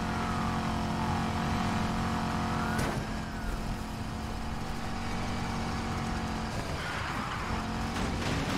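Need for Speed Heat racing game: a car engine drones and revs continuously, with a couple of sudden impact bursts and shifting pitch suggesting crashes, no voices heard.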